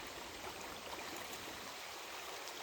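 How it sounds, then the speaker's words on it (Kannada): Village stream water flowing with a soft, steady rushing hiss, faint and continuous without breaks. "ಈಗ ನೋಡಿ ಅಲ್ಲಿ ಫ್ಲೋ ಆಗ್ತಿದೆ ನೀರು, ಈಗ ನೀರು ಬರ್ತಾ ಇದೆ"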